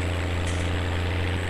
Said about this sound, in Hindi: अरे अरे भाई बंद हो रहा है ट्रैक्टर।